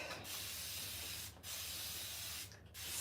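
A spray bottle hisses in several short bursts, broken by brief pauses, close by and fairly quiet.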